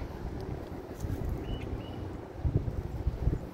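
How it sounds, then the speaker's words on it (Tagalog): Wind blowing steadily through trees in a backyard, a low gusty rumble buffeting the microphone with faint rustling, swelling stronger toward the end. "Mahangin."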